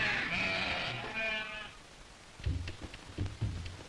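Sheep bleat on a hillside pasture in the Kangra and Kullu region of the Himalayas, an old 1960s–70s recording. A loud drawn-out bleat opens, followed by softer scattered calls and shuffling.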